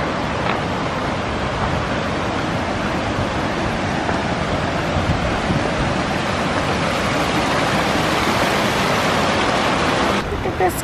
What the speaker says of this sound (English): Look at this cool little waterfall washing all over that rock.